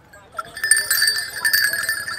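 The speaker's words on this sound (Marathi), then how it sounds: "हा आवाज आला ना की समजायचं बैलगाडी आली" Bells on an arriving bullock cart at the Mhasa Yatra cattle fair jingle in quick, irregular bursts nearby, growing busier as they approach.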